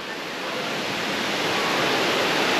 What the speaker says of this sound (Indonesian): Ni waterfall dia.